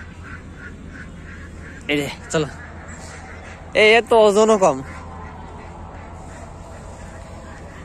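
A sick duck with a leg problem and low weight quacks close by: two short calls, then a quick run of four louder quacks, while people talk nearby.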